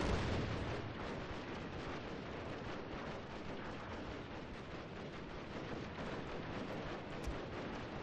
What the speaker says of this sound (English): they're opening up with the Gatling guns